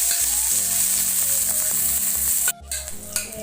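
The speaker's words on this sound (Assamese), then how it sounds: "এইখিনি এতিয়া আমি অলপ ভাজি ল'ম।" Onions frying in hot oil, a loud continuous sizzle up close, with a brief dip midway as they are stirred before the crackle resumes.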